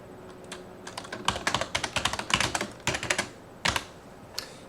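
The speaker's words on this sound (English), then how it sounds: "and typing in my password." Close, crisp keystrokes as a password is typed on a computer keyboard, a fast irregular burst of clicks that thins into a few separate final taps, without talk.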